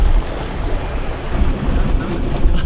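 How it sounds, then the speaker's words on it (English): Boat setting out to sea on a Cabo diving trip, with a steady roar of wind buffeting the microphone over rushing water and engine rumble, loud and continuous throughout. "We've just set sail."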